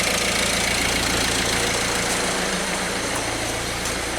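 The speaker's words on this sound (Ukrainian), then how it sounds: "працює у нас двигунчик." A Peugeot Expert van's engine idles steadily just after an oil pan and oil pickup replacement, a continuous close, even hum with a faint low knock running through it, no voices.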